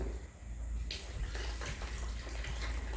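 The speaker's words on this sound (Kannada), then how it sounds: "ಚಿಕನ್ ತೊಳಿಲಿಕತ್ತಾನ್ರಿ ಈಗ" Tap water running steadily in a home kitchen as chicken is rinsed for a curry, a continuous close splashing wash with a brief louder gush near the start.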